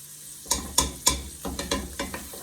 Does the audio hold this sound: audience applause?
no